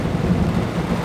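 Thunder rumbles low and steady through heavy rain in Houston, a dense continuous roar with no talk over it.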